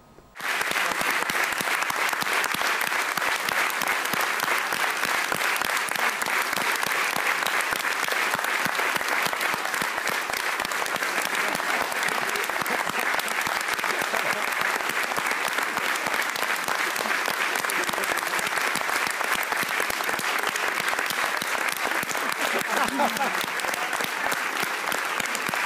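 A theatre audience at Atelje 212 applauds at the end of the play Ljubavno pismo, a long, dense and steady roar of clapping that holds at full strength throughout.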